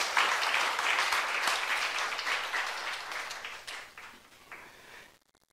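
A church youth congregation breaks into applause during a sermon, a dense, even wash of many hands that gradually thins and fades out, with no voices over it.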